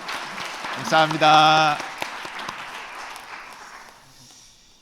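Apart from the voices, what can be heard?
congregation applauding church district leaders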